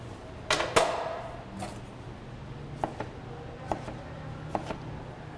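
Knife blade chopping through roasted caramelized onions on a cutting board for a kale power bowl, a handful of quick separate thuds and taps spaced out over a few seconds, close and fairly quiet.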